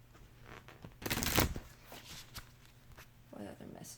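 Tarot cards shuffled by hand in a few soft riffling bursts, loudest about a second in, with quieter papery flicks and a final short riffle, close and fairly faint.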